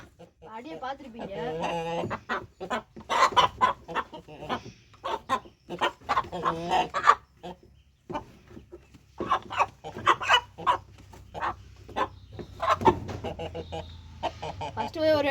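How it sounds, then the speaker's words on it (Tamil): A frightened rooster clucks repeatedly up close on a farm while someone talks over it almost continuously in Tamil. "நல்லா சேவல் பயந்துருச்சு"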